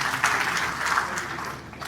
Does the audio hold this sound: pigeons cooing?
no